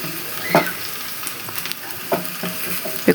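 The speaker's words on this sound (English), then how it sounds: "we cook our onion till they are okay" Onions fry in a pan for chips mayai, a steady close sizzle broken by a few sharp stirring clinks and scrapes.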